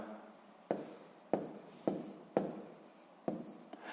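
A pen writes an answer for a sixth-grade maths exercise in five quick scratchy strokes, each starting with a sharp tap and fading. The strokes are close and quiet, with a small extra tap at the end.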